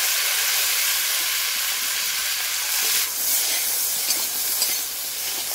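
Okra frying with onions in a wok, ahead of a spicy prawn dish, crackles in a loud, continuous sizzle with steady hissing spatter from close by.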